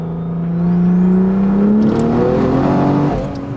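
A big-turbo Toyota A90 Supra with a stock B58 engine pulls hard in fourth gear, a loud rising engine note climbing steadily in pitch with turbo whine over it, heard close from inside the car before easing off near the end.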